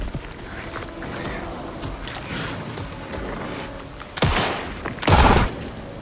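Shotgun blasts in the video game Alan Wake 2: two heavy, booming shots close together near the end, over a murky ambient game background, without talking.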